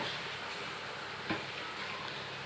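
Cut potato pieces sizzle steadily in a pan over high gas while being stirred, a close, even hiss of frying with one small scrape midway.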